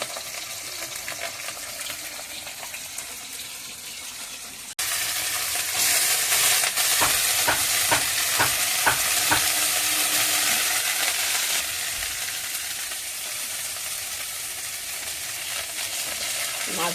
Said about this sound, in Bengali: মাছগুলো ভেজে দিচ্ছি।